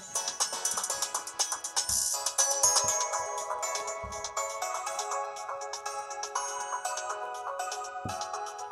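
Bright, bouncy pop-style game music from Pokémon Sword and Shield plays steadily at moderate volume with a high synth melody over a busy rhythmic backing, and no talking.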